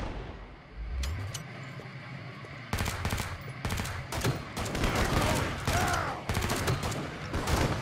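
Rapid automatic gunfire from a gun in Killing Floor 2, sounding in dense repeated bursts with short pauses between them, loud and close, with game effects and occasional talk underneath.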